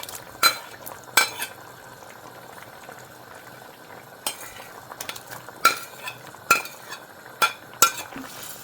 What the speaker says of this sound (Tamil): இப்போ நான் பொரிச்சு வச்சுருக்கிற இந்த மரக்கறி எல்லாத்தையும் போட போகிறேன்.